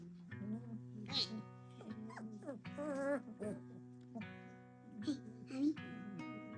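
Goldendoodle puppies give high whimpers and small yips near the mic, with people talking around them.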